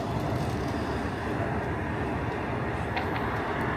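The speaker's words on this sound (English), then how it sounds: "Oh, yeah, it's passing the train. Can you hear it?" A continuous, steady rumble of a passing train in Korea with broadband rolling noise throughout, fairly distant and even in loudness.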